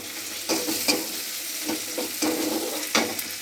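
Tomatoes sizzle steadily in a hot pan for a spicy fish curry while a spoon stirs and scrapes them in irregular strokes; close and moderately loud, with no voices.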